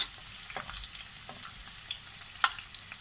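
Chopped onions frying in a couple of spoonfuls of oil in a pan, giving a soft, steady close sizzle with a few light scrapes of stirring.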